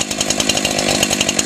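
A Husqvarna 372 XP chainsaw runs steadily at high revs, a loud, close, continuous buzzing engine whine with no pauses or voices.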